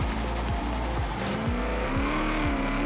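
Chevrolet Camaro SS in Forza Horizon 3, engine droning loudly and steadily with repeated upshifts stepping the pitch up and down, tires faintly squealing, no voices.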